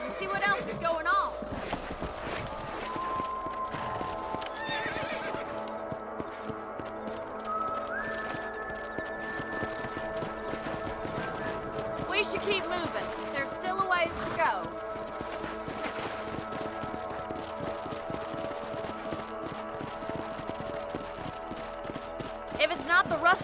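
Horses trotting and galloping in Red Dead Redemption, steady clip-clop hoofbeats running throughout under game ambience, with a character's voice speaking briefly over the riding.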